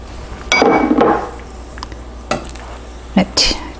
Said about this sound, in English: That tortilla is heating up nice.